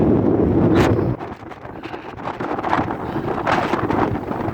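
Strong storm wind at Şile harbour, Istanbul, buffets the microphone in loud, continuous gusts, easing briefly after the first second before roaring back, with no voices.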